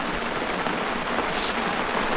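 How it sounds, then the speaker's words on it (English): Steady rain pattering on a surface at a campsite in the Blackdown Tablelands, a continuous broadband hiss with no talk, fairly loud and close. "So that rain all came a bit quicker than we thought."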